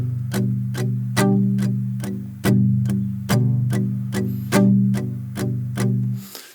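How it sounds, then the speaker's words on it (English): Electric guitar chugged with palm-muted downstrokes, a rhythmic series of tight, thumping strikes with occasional accents, played close and alone for several seconds. "We're going to be palm muting the whole entire section, and we're going to be doing nothing but downstrokes."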